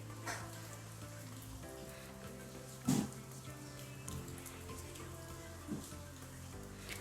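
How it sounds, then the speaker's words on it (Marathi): Strips of dough fry in hot oil over high to medium heat with a soft, steady sizzle. A single louder crackle cuts in partway through, and there is no talk. "हाय टू मिडियम गॅसवर आपल्याला छान तळून घ्यायचे आहेत खरपूस होईपर्यंत"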